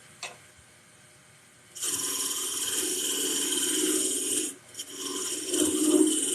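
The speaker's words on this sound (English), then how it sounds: "I'll do a pass with the skew chisel." A skew chisel cuts a wooden lidded box turning on a lathe, giving a steady, bright scraping hiss that starts abruptly, runs for a few seconds, breaks off briefly, then resumes.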